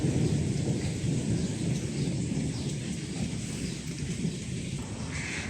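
Steady rain falling outdoors by a house with grass and papaya trees, with a low thunderstorm rumble underneath, continuous and fairly loud.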